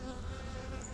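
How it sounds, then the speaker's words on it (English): Honey bees buzz in a hive, a dense continuous droning hum from many insects at once, quiet but close and unbroken. "that is a lot of bees"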